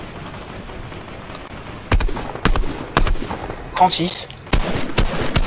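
Fortnite video game gunfire: several loud sharp shots in uneven bursts, close and punchy, with a brief electronic effect in between and soft background noise.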